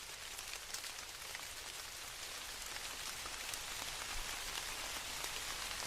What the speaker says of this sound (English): the sound of these raindrops on this tundra moss